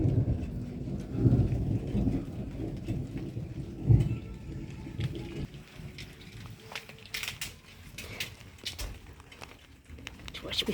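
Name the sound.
thunder and rain during a thunderstorm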